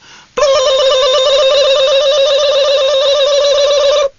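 A telephone rings steadily and loudly for about four seconds, a continuous warbling electronic ring that stops abruptly.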